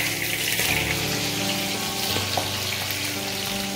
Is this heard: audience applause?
no